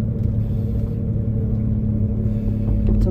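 Engine of a first-generation Suzuki Alto Works CA72V with worn suspension, a steady loud rumbling drone heard up close from inside the car, with no one talking over it.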